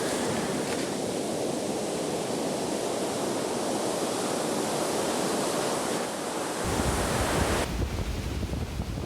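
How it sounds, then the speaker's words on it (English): Ocean surf rolling in at Zicatela beach on the dangerous eastern side, a loud, steady roar of breaking waves with wind buffeting the microphone, swelling and deepening toward the end with no voices. "here on the eastern side, known as Zicatela, the surf is too dangerous to swim"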